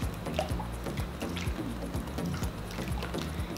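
Watery slime mixed with playdough makes wet, squelching squishes in a quick, rhythmic series of close, soft pulses with light liquid clicks.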